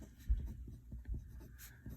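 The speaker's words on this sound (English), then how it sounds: "we are writing with the Conklin" A Conklin Duragraft fountain pen in matte black and rainbow writes on paper, its nib giving faint, close scratchy strokes in short irregular bursts with no talk.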